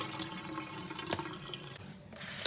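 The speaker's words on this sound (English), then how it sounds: "I have washed it around and rinsed it 3 times" Rice for a Bombay biryani being swished and rinsed in water, with running tap water, splashing and drips at close range, fairly quiet and without speech.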